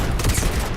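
Rapid, dense gunfire from a weapon in the game Starfield, a continuous loud burst of overlapping shots filling the whole moment.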